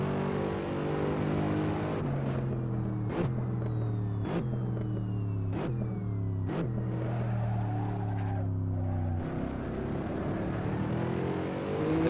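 Mercedes SLS GT3 race car engine in the Assetto Corsa racing game at Monza, a continuous mid-volume drone rising in pitch through repeated upshifts, each gear change marked by a sharp break, with a sustained wind-down near the end.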